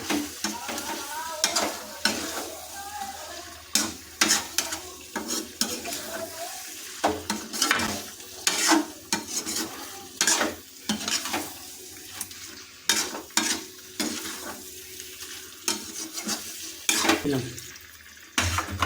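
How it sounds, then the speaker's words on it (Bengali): Fried shrimp stirred with jackfruit in a pan for echor chingri, with repeated rhythmic scrapes and clanks of a spatula against the metal over a gentle sizzle, close and fairly loud, continuing steadily. "চিংড়ি মাছটা যোগ করেছি তাই এটাকে দিয়ে কিছুক্ষণ নাড়িয়ে দেবো"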